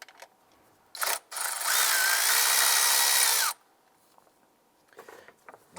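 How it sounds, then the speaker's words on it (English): Power tool spinning a 10mm socket to loosen and remove a nut near the ignition coil of a 2011-2017 Honda Odyssey. One close, steady whir of about two seconds follows a brief short blip, with quiet clicks after. "Using a 10mm socket, you go ahead and loosen and remove the nut right here."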